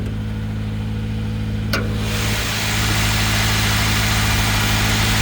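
A 2014 Subaru Legacy 2.5i Sport AWD engine idling steadily, close up with the hood open, after a brief click, as a smooth constant hum with no voices.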